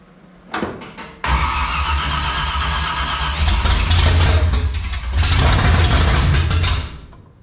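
A 1955 Chevy project engine cranks in a few short bursts, then fires and catches into a loud, steady rough idle with rises of revving, close up for about six seconds before cutting off.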